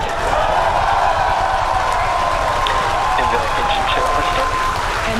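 Crowd noise from spectators watching a SpaceX Falcon Heavy launch on the USSF-44 mission, a steady roar of cheering and applause that carries loud and unbroken through the whole stretch.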